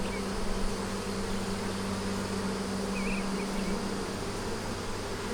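Honeybees humming at a hive, a steady close swarm drone with a constant low buzz and dense noisy texture throughout, no voices.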